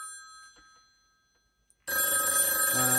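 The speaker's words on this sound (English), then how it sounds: "Wait a few seconds and then it'll connect." A vintage telephone rings through a small room-to-room exchange: after a near-silent pause, a loud, steady ringing tone with buzzy harmonics abruptly starts and continues to the end.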